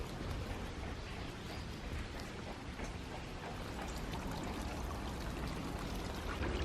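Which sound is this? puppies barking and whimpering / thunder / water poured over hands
water poured over hands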